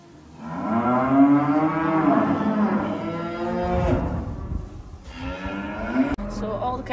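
Cattle on a farm low loudly and close, with long drawn-out moos overlapping one another, a brief gap, then another shorter moo and some clatter at the end.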